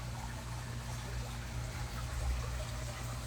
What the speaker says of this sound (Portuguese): O que você ouve aqui é barulho de água, de pássaros, de tranquilidade.